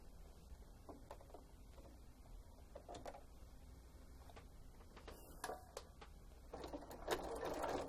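A sewing machine stitches elastic onto a fabric face mask, giving faint, quick mechanical ticking and tapping in short irregular bursts over a low hum, then a louder whirring run near the end, with no talk.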